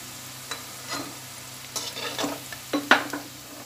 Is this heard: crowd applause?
no